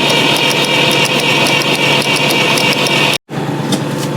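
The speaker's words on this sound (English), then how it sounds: "Roll it over again." A Fordson Super Major backhoe's diesel engine, fault in the injection pump, cranks over with a continuous loud mechanical drone that cuts out abruptly near the end, then resumes.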